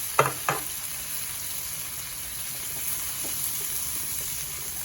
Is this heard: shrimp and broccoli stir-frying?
yes